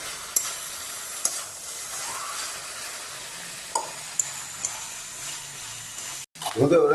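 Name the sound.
sautéing potatoes with bhetki fish bones in a pan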